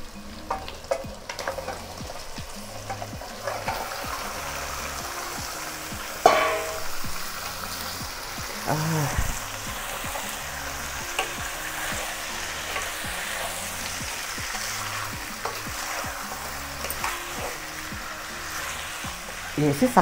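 Chicken leg pieces and liver, about two kilograms together, fry in a pot for a home chicken curry, a steady moderate sizzle broken by repeated scraping and stirring clatter, with a voice faintly underneath.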